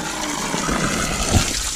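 Water flowing from a mountain spring, a continuous close rushing gush with no pauses.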